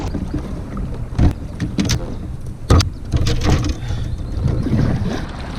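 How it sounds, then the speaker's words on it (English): A kayak paddles upstream against a steady current on a muddy river, with irregular paddle splashes and strokes close by over constant rushing water and wind noise. "paddling upstream is a great shoulder workout"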